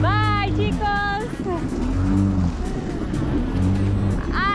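A jet ski speeds across Lake Atitlán in Guatemala, its loud close engine rising and falling in revving sweeps, with voices calling out over the motor noise.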